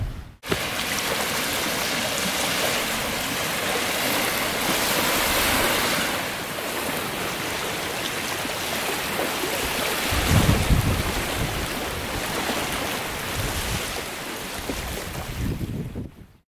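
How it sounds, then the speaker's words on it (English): Gentle ocean waves lapping steadily at a bay shore overnight at a camping spot, a continuous broadband wash with a slightly louder surge partway through and no voices. "just gentle waves lapping all night"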